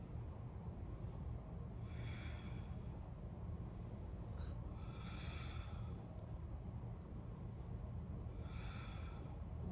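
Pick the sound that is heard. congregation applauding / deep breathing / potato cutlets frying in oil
deep breathing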